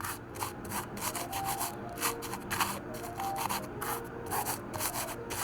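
A kitchen knife with a 3mm damaged edge and tip is stroked freehand across a sharpening stone, producing a steady rhythmic gritty scraping, close and continuous, with regular back-and-forth passes.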